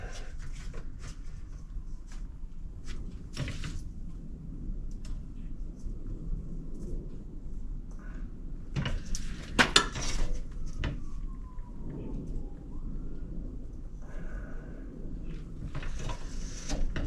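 A Harbor Freight bench shear cuts aluminum sheet for homemade Humvee half doors, making repeated sharp metallic clanks and crunches. The strokes are spaced irregularly over a steady shop background.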